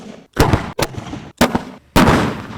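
Firework shells launched from mortar tubes, four sharp, loud booms in quick succession, each with a short echoing tail.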